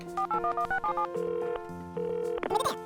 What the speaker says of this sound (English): Faye, can I borrow the glitter phone, please